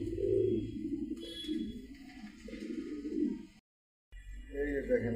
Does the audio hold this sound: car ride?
no